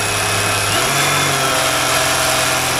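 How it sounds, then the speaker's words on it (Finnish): An engine on a diesel project vehicle revs up under throttle, a steady loud droning hum that rises in pitch partway through and holds there, with no talk. "nyt kun mä painan kaasua ja mä moottorikierrokset nousee"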